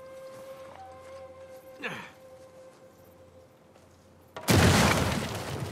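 Dynamite detonating in the video game Uncharted 4, a sudden loud, broadband blast that hits after a stretch of quiet ambience and a brief whoosh, then rolls on as a dense, sustained rumble to the end.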